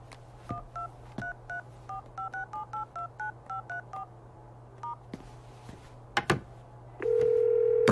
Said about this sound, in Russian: Тогда я наберу его сам.